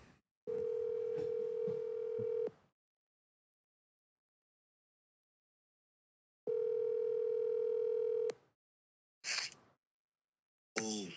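Phone dial tone on an outgoing call, a steady tone sounding in two long stretches separated by silence, followed by short ringing bursts near the end.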